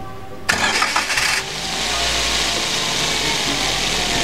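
A Daihatsu Gran Max 1.5 pickup engine cranks briefly with a rough starter whirr, then catches and settles into a smooth, steady idle nearby.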